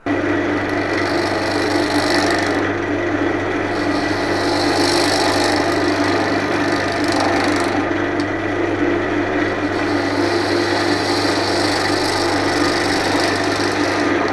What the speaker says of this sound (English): I'm going to use my Ashley Isles 12mm bowl gouge.